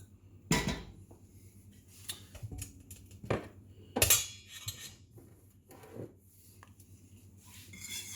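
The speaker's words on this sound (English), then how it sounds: "All the while, I'm going to keep whisking." A whisk knocks and scrapes against a metal pot of simmering mixture on medium-high heat, giving quiet, irregular clinks and rubs close by.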